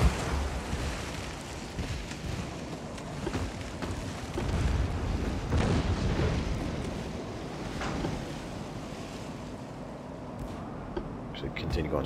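A torpedo strikes a warship in the naval game Ultimate Admiral Dreadnoughts, setting off deep rumbling blasts over a constant roar of sea and wind, loud and sustained across several seconds, with someone talking over it.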